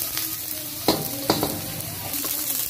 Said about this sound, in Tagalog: Mainit na yung wok natin guys, magigisa na tayo.